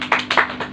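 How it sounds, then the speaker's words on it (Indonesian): Brief applause in a classroom during a micro-teaching session, a few quick scattered claps in an irregular cluster, close and short-lived with no talk. "Tepuk tangan lagi untuk Aulia."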